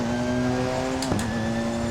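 A race car engine in the Assetto Corsa racing game holds a steady high-revving drone, with a brief dip and recovery around a gear change into sixth, loud and continuous with no speech.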